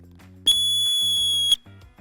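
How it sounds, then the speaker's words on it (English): One sharp, piercing dog training whistle blast lasting about a second, loud and close, over a low hum of background noise. "When you blow that whistle command, beep, beep, beep, beep"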